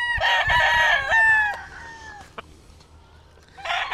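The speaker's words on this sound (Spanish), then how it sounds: "Este es un gallo alto." A tall rooster with green legs crows loudly and close by in one long drawn-out call that trails off, then a second crow starts at the very end.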